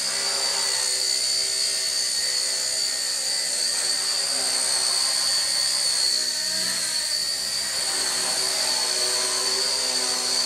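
A Blade Nano CPX RC helicopter hovers and flips inverted nearby, giving a steady high-pitched whine from its motor and rotor that holds throughout without a break.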